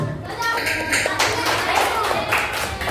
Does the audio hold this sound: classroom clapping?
yes